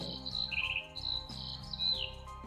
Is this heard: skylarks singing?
yes